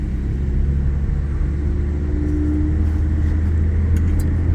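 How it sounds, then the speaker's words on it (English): A steady low exhaust drone hums through the cabin of an Audi A6 3.0T with an aftermarket muffler, a constant engine rumble with no voices over it. "a noise inside of the car now that I might want to get rid of. A little bit of a drone"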